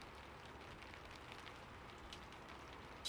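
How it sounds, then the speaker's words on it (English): Steady rain falls across a surface, a soft, even hiss of countless drops with faint scattered patters, quiet and continuous with no voices. "She imagined the rain falling all over the land"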